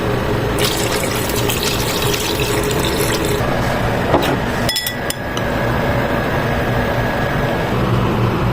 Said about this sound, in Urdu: تو ابھی اس کے اندر ڈالنا پانی۔